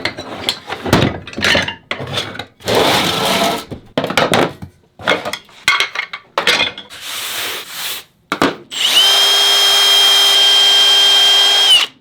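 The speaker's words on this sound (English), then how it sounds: "now I'll drill the hole and they should come apart" A power drill whirs in repeated bursts as it bores into wood to make a bead maze toy, with short pauses between runs, then a long steady high-pitched spin at the end.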